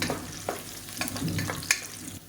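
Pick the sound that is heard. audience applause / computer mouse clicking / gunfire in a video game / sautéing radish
sautéing radish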